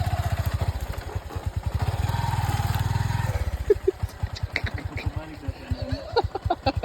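A motorcycle bogs down in thick mud, its engine chugging and revving unevenly with clattering pulses, close by, while people talk over it.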